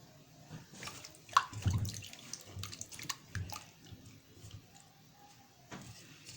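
Cut potatoes for fries being washed by hand in cold water, with sloshing and dripping splashes and a few louder bursts of handling, close and moderately quiet with no talk.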